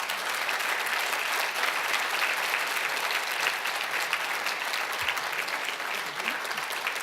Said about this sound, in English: Please show our appreciation with a round of applause,